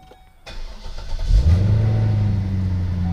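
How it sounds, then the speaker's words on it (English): Cadillac XLR fitted with aftermarket mufflers starts up: a short starter crank, then the engine catches with a loud rev flare and settles into a steady, rumbling idle, close and alone. "Let's fire this bad boy up."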